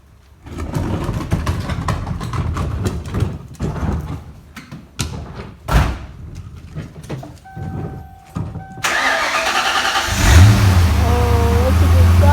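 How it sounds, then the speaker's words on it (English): 1994 Mustang GT with a Coyote engine swap pulling out of a garage: clanks and thumps give way to a running engine that rises in a steady, close rev near the end, with voices talking over the early part. "Gonna pull out of the garage, let it warm up, and then take it for a test drive."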